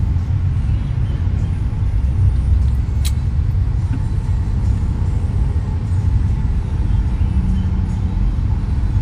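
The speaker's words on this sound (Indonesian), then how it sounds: "Macet guys." Dense, steady rumble of a traffic jam with cars and buses idling and creeping along, a continuous low engine drone and a brief sharp hiss partway through, moderately loud and unbroken.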